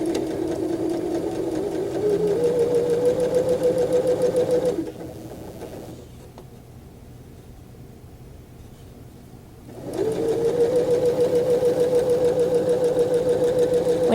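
A sewing machine back stitching a plain seam, running in a fast even whir for several seconds, pausing into a quieter hum, then starting up again at the same rapid pace.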